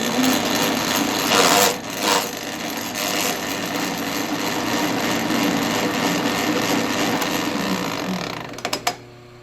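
An old Sheldon lathe runs with its gears grinding, giving a loud, steady mechanical whirr and rasp that holds for the whole stretch, with a few sharp clunks near the end.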